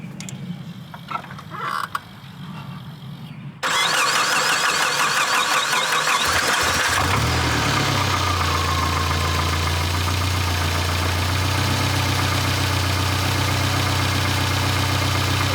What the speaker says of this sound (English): See if she starts up.